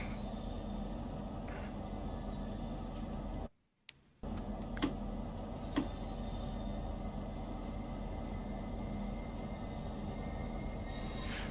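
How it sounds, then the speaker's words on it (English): A Talent 1 train in Train Sim World plays Talent 2 running sounds: a steady rail rumble and hum with faint clicks over the track, plus a brief dropout partway through. "I guess we just have to live with the Talent 2 sounds on the Talent 1"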